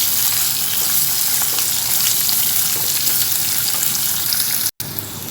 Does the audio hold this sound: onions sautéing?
yes